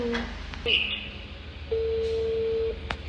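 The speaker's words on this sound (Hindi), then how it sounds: "अब मैं फ़ाती को कॉल कर रही हूँ क्योंकि प्याज ही नहीं है" Phone dialing tones while placing a call from a home kitchen, heard as short electronic beeps and a steady sustained tone over low background hum and room noise.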